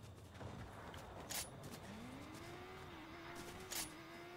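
A car engine in a video game hums steadily at low volume, its pitch rising gradually as it drives, with a few brief clicks over faint background noise.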